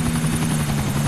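Loud, steady helicopter rotor drone with a low pulsing hum, close and continuous, from a helicopter in GTA 4 multiplayer.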